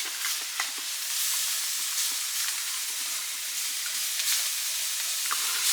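Oyster mushrooms fry in a pan with soy sauce and brown sugar, giving a steady, bright sizzle with occasional crackles and stirring sounds, close and alone without talk.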